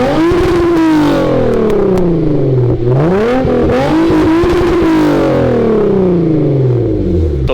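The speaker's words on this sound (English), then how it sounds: "Let's get some revs." A custom-tuned Hyundai Genesis Coupe 3.8 V6 engine revs hard several times, pitch climbing and falling in repeated surges, close up with a rough rumbling edge.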